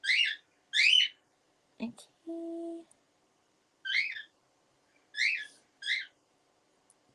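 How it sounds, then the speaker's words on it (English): A hungry pet bird chirps in short, high bursts spaced a second or so apart, fairly close and clear in a quiet room, with a brief spoken word and a soft humming tone in between. "Can you guys hear my bird? I think she's hungry."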